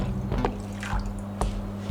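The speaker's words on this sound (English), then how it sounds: "adding a cup of cold water and then not mixing it" A cup of cold water pours into a baking dish, soft splashing and dripping with a couple of brief sharper clatters, close up and with no talk.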